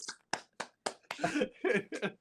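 A few soft, sparse claps in a brief golf-clap rhythm, close by, quickly giving way to a voice talking.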